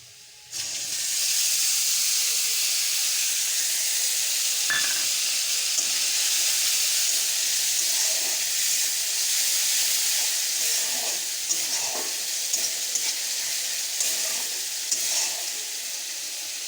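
Ginger-garlic paste frying with onions in a pan, a steady, fairly loud sizzle and hiss running throughout with occasional soft stirring clicks, no voices.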